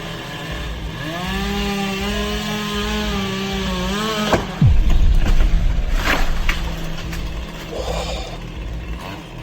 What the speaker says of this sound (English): the video shows a tree surgeon sawing off the top branch of a tall tree with a chainsaw